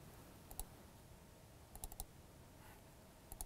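A computer mouse clicks a few times while editing in Movie Maker: one single click, then a quick cluster of three, then one more, faint against a steady background hiss with no voice.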